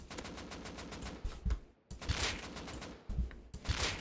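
An AK rifle fires in the video game Rust in rapid automatic bursts, a dense crackling volley broken by two short pauses, loud and close with no talking.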